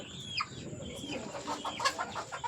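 A rooster, a gamefowl, clucks repeatedly in short, close calls at an irregular rhythm, with light background noise and no talking.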